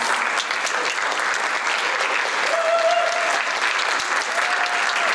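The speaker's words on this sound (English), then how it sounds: "Let's give our speakers another round of applause." A crowd gives another round of applause to speakers at a panel event; thick, continuous clapping from many hands fills the space at a steady level throughout.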